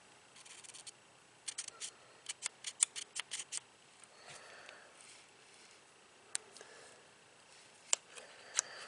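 A Kimber K6S .357 Magnum revolver with a 4-inch barrel gives crisp, close metallic clicks as its cylinder is opened and handled, quick bursts of ticks early on, then a few isolated clicks against near silence.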